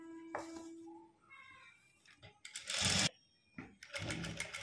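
A sewing machine top-stitches a blouse neckline with a same-cloth finish in place of a hem, running in short bursts of whirring stitching with quiet pauses between them, loud and close.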